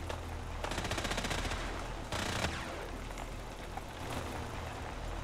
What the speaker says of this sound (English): I'm gonna say I'm enjoying these Gatling lasers